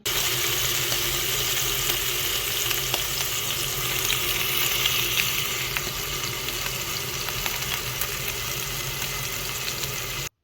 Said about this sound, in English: So I heated the pan to, I think, just above 200 degrees. I put the steak in. Now listen to the sound.